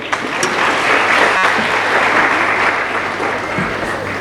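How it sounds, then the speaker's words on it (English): A crowd at a student awards ceremony applauds steadily throughout, a dense even clatter of many hands clapping without pause. "you all should clap for the one who said from that side"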